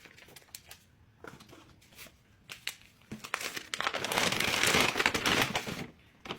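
Wrapping crinkles as a confectionery order is packed: soft intermittent crinkles at first, then a louder, denser stretch of crumpling near the end, with no voices.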